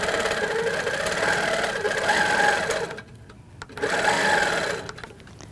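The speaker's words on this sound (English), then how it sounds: "Now let's go ahead and stitch this." An HQ Avanté longarm quilting machine stitches in two close, steady bursts of rapid mechanical whirring, separated by a short pause.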